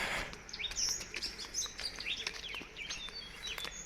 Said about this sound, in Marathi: फक्त पक्ष्यांचा आवाज येतो